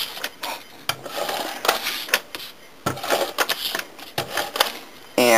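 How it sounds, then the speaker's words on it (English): An ATG adhesive tape gun run around the edges of a card base during holiday cardmaking, giving repeated close clicking and ratcheting bursts in uneven spurts. "I'm going to grab my ATG gun, and I'm going to go around the edges of my card base."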